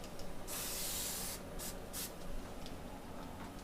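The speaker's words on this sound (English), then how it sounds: "Give it a little spray down." Lacquer thinner sprays onto a paint spray gun being cleaned, one long hissing burst followed by two short quick bursts, close and fairly quiet.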